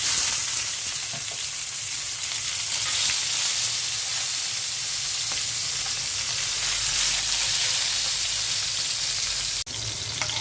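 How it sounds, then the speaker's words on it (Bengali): Small fish fry in hot oil with a steady, close sizzle and crackle lasting throughout, a faint scrape or clatter now and then, and a brief dip near the end. "এখন মাছটা ভেজে নেব"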